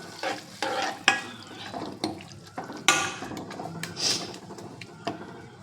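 Moringa leaves with a little tamarind cook in a pot, with bubbling, stirring scrapes and watery splashes. Several sharp clinks and knocks recur irregularly, close by, over a steady simmer.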